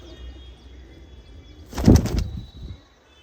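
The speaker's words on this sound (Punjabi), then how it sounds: "ਸੇਬੇ ਵਾਲਾ ਕਬੂਤਰ ਆ" A pigeon of a Chinese-type breed gives one short burst of cooing, close and fairly loud against a quiet background.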